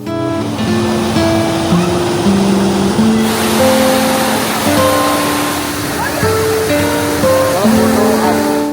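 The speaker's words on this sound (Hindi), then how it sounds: "नर्मदा नदी के ऊपर बना हुआ ये खूबसूरत वाटरफॉल भेड़ाघाट की सबसे मेन अट्रैक्शन है।" The Dhuandhar waterfall on the Narmada river at Bhedaghat roars as a constant wash of falling water, loud and unbroken, with melodic music playing over it.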